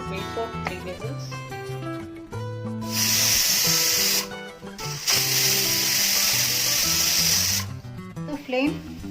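A pressure cooker of moong dal sprouts masala rice with water, lemon juice, salt and ghee gives off two loud bursts of hissing steam, the second longer, over background music.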